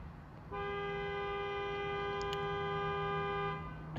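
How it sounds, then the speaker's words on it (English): A car horn blares one steady, sustained honk for about three seconds, moderately close, over faint background noise. "the horn had to honk it at that"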